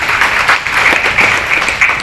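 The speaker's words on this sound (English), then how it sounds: "Give him a big round of applause." A crowd applauds with dense, continuous clapping, steady and fairly loud for the whole moment.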